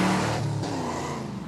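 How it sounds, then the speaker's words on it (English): The V8 of a Trans Am from a movie scene revs hard, then the engine note drops off abruptly as the clutch goes in for a gear change, continuing at a lower steady drone, loud and close. "you can actually hear a shift where the engine dies off there"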